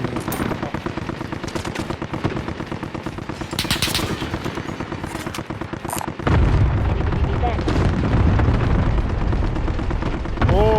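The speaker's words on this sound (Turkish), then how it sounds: "kuleden sıkıyorlar kuleden" Gunfire in Call of Duty: Warzone Resurgence quads mode, with dense automatic bursts and shots crackling loudly and continuously throughout, heavier and denser in the second half, while players talk over the battle.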